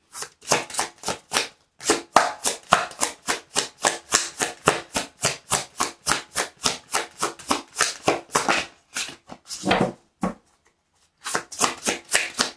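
Tarot cards are shuffled close up in rapid rhythmic bursts of riffling slaps, repeated dozens of times with a brief pause before resuming, no voices over them.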